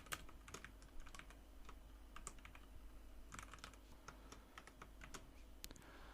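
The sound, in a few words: typing JavaScript code on a computer keyboard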